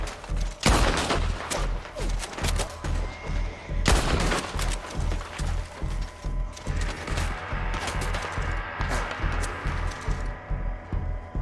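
Gunfire in the shooter Battlefield V, with a couple of loud sharp blasts early on followed by a steady pulsing run of rapid mechanical automatic fire, close and sustained throughout.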